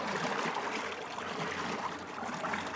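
A boat propeller engaged on a timer churns water in a steady, dense, rushing wash. It stays close and constant throughout, with no voices.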